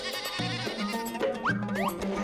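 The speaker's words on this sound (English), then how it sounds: "bleat the goats" Goats bleat in a children's animated story set at a zoo cricket match, several wavering, pitch-sliding cries overlapping close up over a continuous musical-sounding bed, with no talk.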